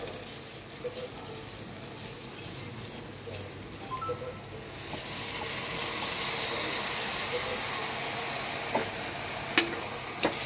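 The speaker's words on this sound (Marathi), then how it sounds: "आता याच्यामध्ये जे डाळ तांदूळ धुवून ठेवलं होतं आपण, ते टाकूया" Washed dal and rice are tipped into a pan of vegetables and stir-fried for biryani. A soft sizzle swells to a steady hiss partway through, with occasional light scrapes and taps from stirring.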